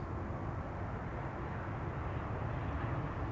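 A departing airliner at Amsterdam Schiphol Airport gives off a steady, broad jet roar. It stays loud and even throughout, with no voices over it.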